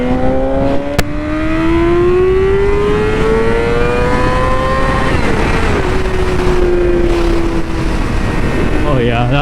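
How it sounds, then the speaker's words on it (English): A Yamaha R6 or Ninja 400 motorcycle on backroads climbs steadily in revs, loud and close with a rising engine tone, and a voice talks over it. "that rev limiter sounds so good"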